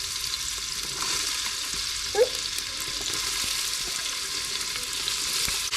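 A chopped onion sautés in melted bacon grease inside an Instant Pot, giving a steady close hiss of frying with a brief clack of a utensil partway through, no voices.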